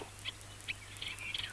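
A female cuckoo gives a bubbling call: several brief, faint, high chirps spaced through a quiet background with a low steady hum, no voices present.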